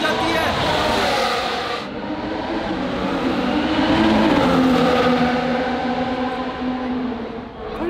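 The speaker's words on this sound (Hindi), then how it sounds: "गाड़ी गुजर रही हो तो उसकी आवाज़ काफ़ी ऊंची हो जाती है।" Formula 1 race cars speed past on the Baku street circuit in Azerbaijan, a loud high-pitched engine whine that rises, holds and pitch-shifts as the cars pass close by, with someone talking throughout.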